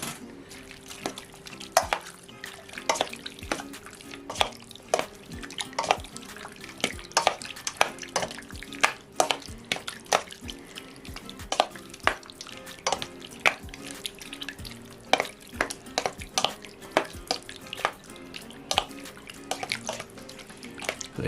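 A soy sauce marinade for grilled pork intestine is stirred and mixed by hand, giving a steady run of wet squelching, sloshing and clicking strokes in a quiet kitchen, close and fairly soft, with no voice.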